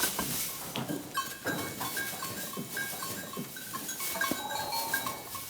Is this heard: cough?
no